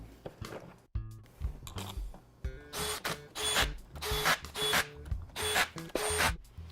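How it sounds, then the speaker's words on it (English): Bolts being threaded back into the main bonnet cover of an air sweep valve, producing close rhythmic ratchet clicks and metallic mechanical clatter in repeated bursts, no talking. "we'll thread these bolts back in"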